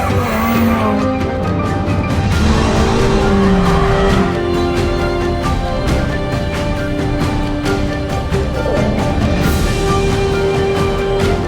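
A car drifts on a track in Japan, its engine roaring loud and close while tires squeal in long, wavering tones over continuous road noise.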